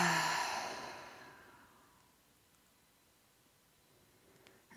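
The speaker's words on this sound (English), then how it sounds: "Releasing whatever needs to be released right now on the out-breath. And a third intentional breath." A single deep, intentional breath out during a guided breathing exercise, a soft airy exhale that fades gradually into near silence.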